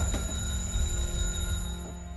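Alarm clock ringing in a quiet room, a continuous high metallic tone with a steady buzzing pulse, fairly near and sounding alone for a couple of seconds.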